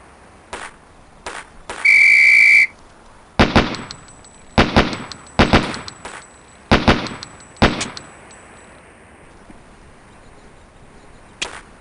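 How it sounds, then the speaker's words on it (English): A loud, steady whistle blast starts a reflex combat drill in the MS-DOS game Police Quest: SWAT, followed by a string of sharp gunshots and short bursts at an irregular pace. "On the whistle."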